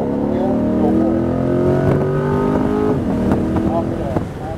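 A Corvette C8 Z51 accelerates hard around the Putnam Park race track, its engine note climbing through steady rising harmonics, loud and close, while an instructor talks over it throughout.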